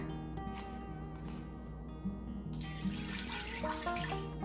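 A cup of water is poured into an Instant Pot over a trivet, a soft, steady trickle that brightens into a fuller splash halfway through, faint and close, with no talk.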